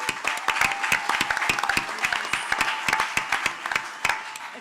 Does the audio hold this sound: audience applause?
yes